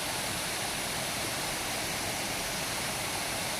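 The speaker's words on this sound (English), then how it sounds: "This is Long Creek Falls." Long Creek Falls waterfall on the Appalachian Trail, a loud, dense, unbroken roar of falling water filling the whole stretch, close by and with no voices.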